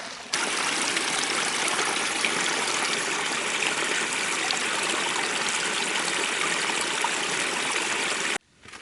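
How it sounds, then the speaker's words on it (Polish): A mountain stream murmurs steadily, a close, even rushing and gurgling of water that runs uninterrupted before cutting off at the end. "Przepraszam, że Wam zakłócam ten szmer strumienia."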